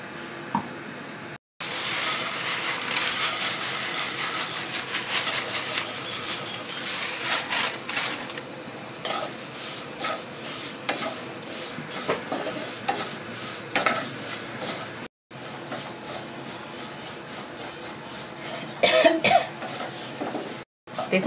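Vermicelli frying in ghee in a pan gives a continuous crackling sizzle, broken by stirring scrapes and brief pauses, with a cough and occasional quiet talk in the background.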